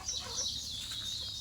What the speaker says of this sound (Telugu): ఇవన్నీ మన కోళ్ళు.